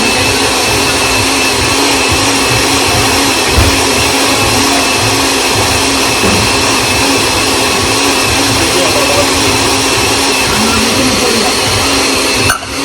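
A kitchen blender runs on puree, blending oatmeal in one continuous, loud, close motor whir that holds steady for the whole stretch before cutting off at the very end, with faint talk underneath.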